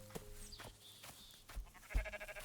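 Sheep bleating in a video game, a few short wavering calls spread across the clip, quiet and somewhat distant, with other faint game sounds around them.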